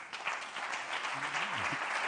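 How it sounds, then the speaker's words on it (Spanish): Steady applause from a crowd fills the whole stretch, dense and even, with a faint voice or tone sliding underneath partway through. "Un aplauso para Rubén."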